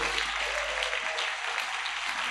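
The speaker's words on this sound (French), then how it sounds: "Est-ce qu'on peut acclamer la parole?" A church congregation applauding after a sermon, with a dense, steady wash of clapping from many hands throughout, fairly loud and with no talk over it.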